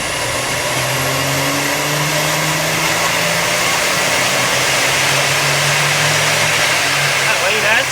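A Mazda FD RX7 rotary engine in a video game revs at full throttle, a loud, continuous buzzing drone that rises and falls in pitch, with faint talk underneath.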